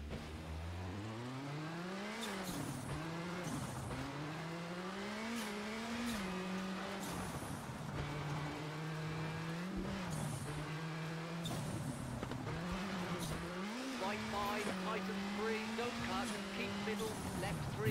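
A rally car's engine revs up and down through repeated gear changes as it slides on a rain-soaked road in the racing game WRC 7, a continuous loud drone with tire hiss beneath.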